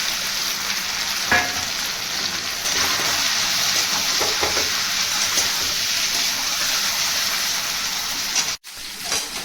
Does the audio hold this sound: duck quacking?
no